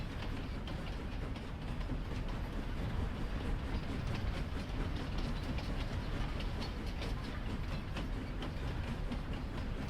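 A steam train in the Farming Simulator 25 video game rumbles continuously with a steady rolling clatter, moderately loud and even throughout, with no talk over it.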